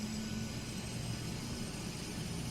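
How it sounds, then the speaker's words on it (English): An aircraft auxiliary power unit runs with a steady, dense mechanical roar and a faint high whine, continuous and unchanging for a few seconds without talking. "This is the sound of the APU."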